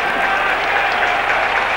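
A stadium crowd claps for the home side at a football match between TJ DAC and Bayern München, steady dense applause throughout.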